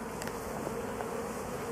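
A swarm of honey bees hums in a close, steady drone, continuous and fairly faint, with no voices over it.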